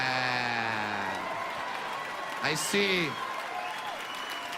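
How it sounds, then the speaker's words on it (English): Steady applause from a comedy club audience at a stand-up show fills the background, sustained and moderately loud, while a voice cuts in briefly over it. "see the old school parents clapping right now"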